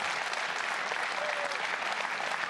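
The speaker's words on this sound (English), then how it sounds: "I think an applause is in order." A crowd at a League of Legends esports match claps in a continuous, dense roar of applause, steady and moderately loud the whole way through.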